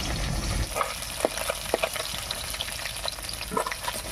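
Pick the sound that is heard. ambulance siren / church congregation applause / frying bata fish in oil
frying bata fish in oil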